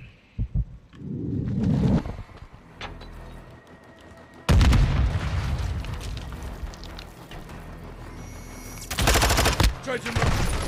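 Gunfire in Call of Duty Modern Warfare 2 multiplayer comes in loud bursts, with rapid automatic shots and a rumbling pause between heavy volleys, and a player speaking briefly between them.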